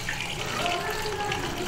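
Running water splashes steadily while bitter gourd is rubbed and washed in a strainer. The sound is continuous, and a voice talks over it.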